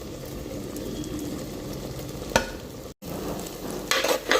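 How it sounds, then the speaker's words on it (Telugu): Ground spice powder fries in hot oil with chillies and curry leaves, with a spoon stirring it around the pan in steady scrapes and a louder clatter near the end. A continuous close sizzle runs underneath, with no talking. "ఇది కొంచెంసేపు బాగా ఫ్రై చేసుకుందామండి."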